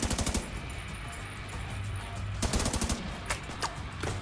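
Machine-gun fire in The Division 2, rapid bursts of loud close shots at the start and again near the middle and end, with a steady rumble of game ambience between the volleys.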